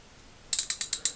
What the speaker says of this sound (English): a super coarse ratchet